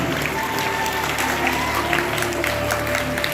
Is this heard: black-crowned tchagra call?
no